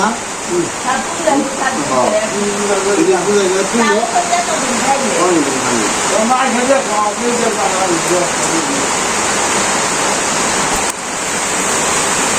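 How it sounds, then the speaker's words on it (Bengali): Steady, loud rain hisses throughout, while a person talks over the downpour for much of the time. "আবার বৃষ্টি হচ্ছে"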